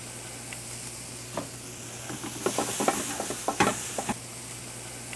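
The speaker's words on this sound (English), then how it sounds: "You're gonna wrap it in foil." A BBQ rib being wrapped in aluminium foil: a cluster of sharp, close crinkles and rustles over a couple of seconds, starting with a single crackle, over a faint steady hum and with no voices.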